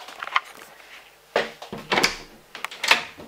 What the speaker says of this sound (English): My door just shut.